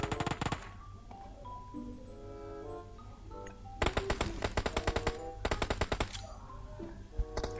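Rapid bursts of machine gun fire in PUBG Mobile, loud and close, with a long rattling volley in the second half and quieter game music between.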